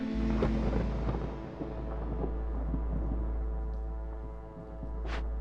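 A storm rolls in within Against the Storm, bringing a low, sustained rumble with soft crackles and a brief rising hiss near the end, moderately loud and heard alone.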